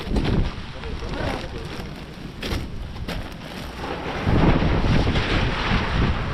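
Steady gusting wind roars and buffets the microphone throughout while fishing outdoors, loud and close, with a rougher surge toward the end.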